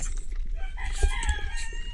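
A rooster crows loudly and close by in a rural outdoor setting, one long strained call with clucking fowl around it and no talk over it.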